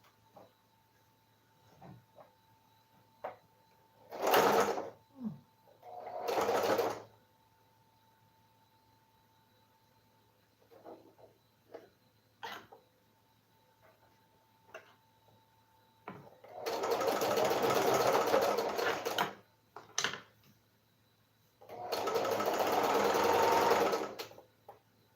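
A sewing machine stitches a tote bag in two sustained bursts of several seconds each, preceded by shorter starts and stops and quiet gaps with small clicks and handling noises.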